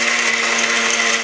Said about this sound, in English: The blender is the perfect tool for doing that, as we're about to demonstrate.